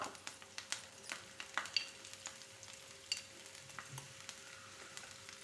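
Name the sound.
garlic and dry red chillies sautéing in a pan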